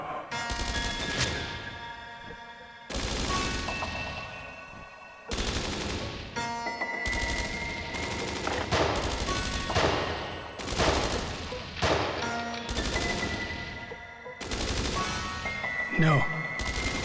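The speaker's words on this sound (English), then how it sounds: "Return fire." Video-game gunfire in Dreams of Another: repeated bursts of rapid automatic shots in a tense ambush, loud and close, separated by short pauses, with a voice speaking in between.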